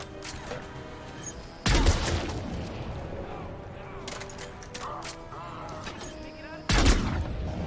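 Semi-automatic gunfire in the video game Mass Effect 3 comes as two loud bursts of shots separated by a few seconds, with softer in-game weapon and action sounds between them.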